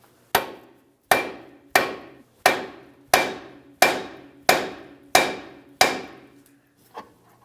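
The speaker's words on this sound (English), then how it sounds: "when I tap on this knuckle, the tie rod will come down" A hammer strikes a steering knuckle on a 2006-2012 Ford Fusion to free the tie rod end, nine sharp metallic blows at a steady rhythm, loud and close, each ringing briefly, followed by one lighter tap.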